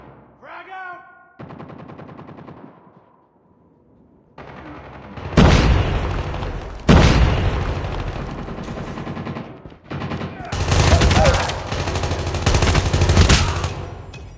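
AK-117 rifle fire in the mobile shooter Call of Duty Mobile during a Hardpoint match, with loud rapid automatic bursts and sustained volleys between short pauses, alongside other game sounds.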